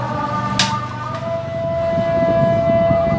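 An electric fan with a faulty capacitor hums with a steady, high motor whine that grows a little louder as it is switched up through speeds 2 and 3, and a brief click is heard near the start.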